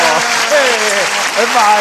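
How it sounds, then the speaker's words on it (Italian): Studio audience at an Italian live TV show applauding steadily, with voices talking over the clapping throughout. "Adesso si ferma l'applauso."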